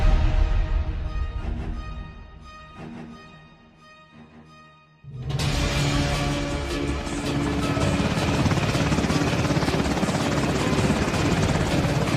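A military helicopter's rotors thump and whine, quieter at first, then a sudden surge into a loud, dense, sustained roar of blades and turbine.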